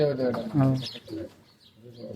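Domestic pigeons of an old breed kept at a house, giving soft low cooing notes that fade into quieter calls, with some voices faintly underneath.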